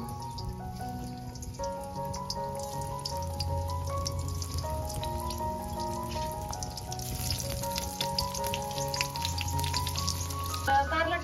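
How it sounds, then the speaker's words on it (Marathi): Pieces of masala-stuffed bitter gourd frying in hot oil, a steady crackling sizzle heard up close, with light rain drizzling outdoors and faint tonal background sounds layered over it. "तर आता तेल तापलंय, एक एक एक कारल्याची फोड मी याच्यामध्ये सोडते."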